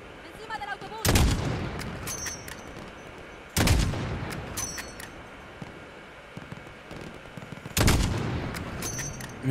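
Three heavy gunshot bursts ring out at roughly four-second intervals in Call of Duty Modern Warfare, each a loud broadband crack with a short rumbling tail, separated by quieter background game ambience.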